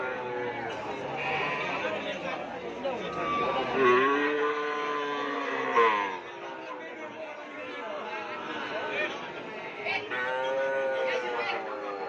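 Madura cattle moo repeatedly at a busy livestock market in Pamekasan, with several drawn-out calls rising over constant crowd chatter and people talking nearby.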